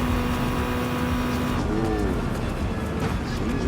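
Engine of a 1999 Toyota GT-One (TS020) race car in a VR racing game: a loud, sustained, high-revving engine drone, with a brief pitch sweep midway as the car shifts, continuous throughout.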